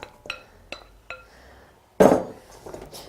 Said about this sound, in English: I'm going to add in the carrots now.